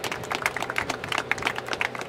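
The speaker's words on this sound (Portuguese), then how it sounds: "obrigado pelas palmas" Audience at a rap battle claps in a quick, scattered burst, many hands slapping close together for a couple of seconds with no talk over it.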